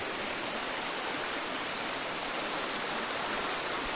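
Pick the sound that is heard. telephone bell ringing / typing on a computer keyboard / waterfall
waterfall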